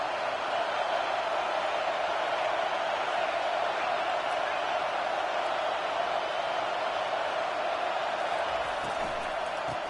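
Steady, dense stadium crowd roar in a College Football 25 game, a broad continuous wash of voices holding at an even level throughout, with a commentator's voice faintly underneath.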